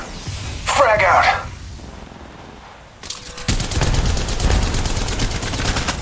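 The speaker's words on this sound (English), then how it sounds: "Throwing thermite grenade." Gunfire crackles in a mobile battle royale shooter, Apex Legends Mobile, in a dense sustained volley over the last half of the clip, after a brief burst and a quiet gap, alongside a thermite grenade throw.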